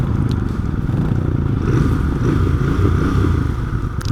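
Royal Enfield Bear 650 parallel-twin motorcycle engine running steadily while riding, a continuous low rumble with some wind noise, near and fairly loud with no talking.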